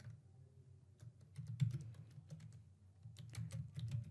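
Computer keyboard typing, close and fairly quiet, with irregular clusters of light key clicks separated by short pauses.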